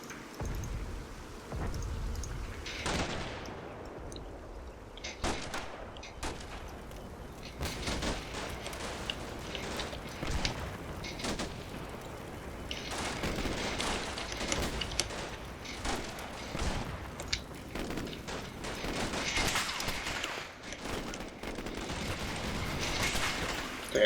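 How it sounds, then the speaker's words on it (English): Small arms fire in Combat Mission Black Sea as troops fight around a warehouse breach, heard as scattered distant cracks and rattling bursts over a steady wash of battlefield noise, fairly quiet throughout. "Getting a small arms fire from through the breach."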